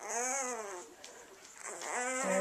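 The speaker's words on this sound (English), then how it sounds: "typical puppy noises while they're sleeping." Sleeping Mastiff puppies make soft whimpering, whining noises with rising and falling tones, two drawn-out cries separated by quieter snuffly breathing, close and fairly faint.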